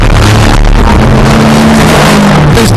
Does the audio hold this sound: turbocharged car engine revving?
yes